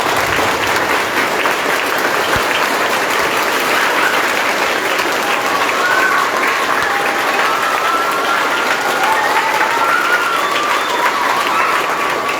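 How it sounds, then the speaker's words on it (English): A gathered audience at an awareness talk on plastic pollution claps together steadily and loudly. The dense, continuous applause carries on evenly for over twelve seconds with no talking over it. "First, I request all to start with clapping."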